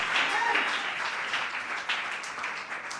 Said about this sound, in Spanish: ¿Cuánto le dan aplauso a la palabra?